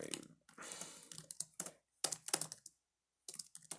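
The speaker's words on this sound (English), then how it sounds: "I do enjoy typing on this keyboard. It's obviously a membrane keyboard because laptop." Fingers type on the membrane keyboard of a Sony Vaio laptop, a soft, quick patter of key presses in bursts with short pauses, close and fairly quiet.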